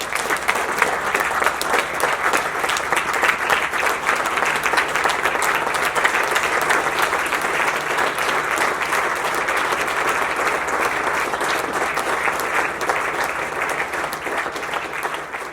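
Audience applause at an award ceremony as the 2019 Grower of the Year winner is welcomed to the stage, loud, sustained clapping from a large room lasting the whole stretch.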